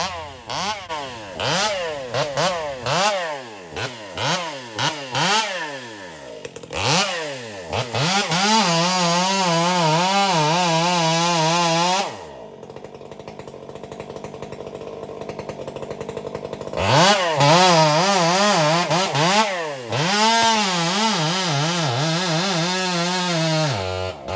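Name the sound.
Stihl 500i chainsaw cutting dead hardwood trees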